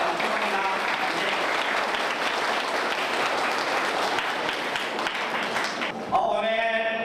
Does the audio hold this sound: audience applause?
yes